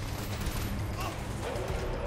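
Gunfire in the video game Saints Row: The Third, a steady dense crackle of shots under a continuous wash of game noise throughout.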